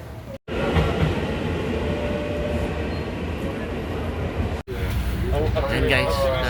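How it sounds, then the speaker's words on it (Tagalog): Inside a fast train in Taiwan, a steady loud rumble of wheels and rolling noise fills the carriage, with a couple of brief dropouts and faint voices talking nearby. "nandito na kami ngayon sa train. Kinuha namin yung mabilis."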